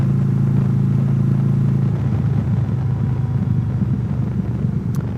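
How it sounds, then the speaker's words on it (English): A motorcycle engine rumbles steadily and loudly throughout at about 30 miles an hour on a mountain road in Tennessee, with a low droning tone that shifts slightly partway through as the ride continues. "This is what it's like to ride a motorcycle in slow motion in the mountains."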